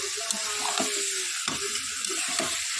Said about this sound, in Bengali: চলো দেখো এটাকে কষাই একটু ভালো করে